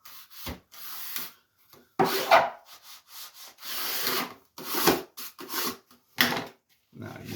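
A squeegee rubs down wood that has been burned with a heat gun, giving repeated broadband scraping strokes with short pauses between them, close and fairly loud.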